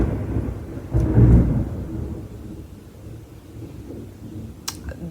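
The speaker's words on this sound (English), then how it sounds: "That was thunder." Thunder rolls in during a stormy day: a loud rumbling boom swells near the start, then slowly fades into a long low grumble, with a brief sharp crackle toward the end and no talking.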